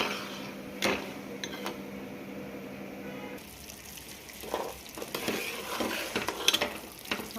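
Sugar and water stirred into syrup in a pan, soft scraping and swishing strokes with faint bubbling, steady and close with no talking.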